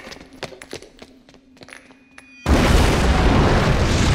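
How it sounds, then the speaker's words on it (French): In the video game Enter The Matrix, a grenade blast erupts suddenly as a loud, sustained roar that floods the mix and stays heavy to the end, following a stretch of quieter clicks and small impacts. "Petite grenade."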